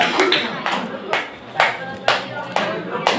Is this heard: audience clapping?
yes